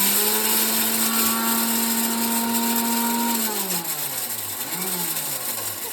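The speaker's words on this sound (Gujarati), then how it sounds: "તો આપણા મિક્સરમાં ભૂકો થઈ ગયો છે" An electric mixer grinder whirs loudly as it grinds a spoonful of fenugreek seeds, holding a steady motor whine before its pitch drops and wavers as the blades slow, with no talking.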